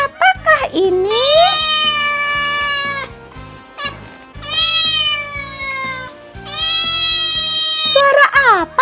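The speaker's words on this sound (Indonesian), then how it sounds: "Betul, itu suara kucing." A cat meows three times in long, clear, drawn-out calls with short gaps between them, loud and close. A soft, steady backing tune plays quietly underneath throughout.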